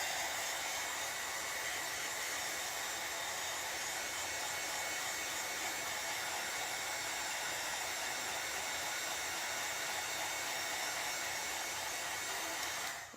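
A hair dryer runs steadily at close range for the whole stretch, drying a craft project before a transfer goes on, a constant loud whooshing hiss with no pauses and no talk over it.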